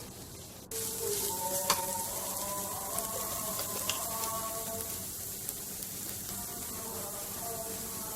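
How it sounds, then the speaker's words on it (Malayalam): Green chili, garlic paste and ginger sautéing in a pan for chicken cutlet, a steady close sizzle with light crackles and stirring throughout. "പച്ചമുളക്, വെളുത്തുള്ളി പേസ്റ്റ്, ഇഞ്ചി എന്നിവ ചേർത്ത് നന്നായി വഴറ്റുക."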